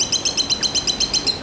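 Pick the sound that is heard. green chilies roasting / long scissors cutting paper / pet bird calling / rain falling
pet bird calling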